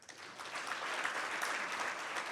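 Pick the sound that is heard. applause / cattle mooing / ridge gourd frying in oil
applause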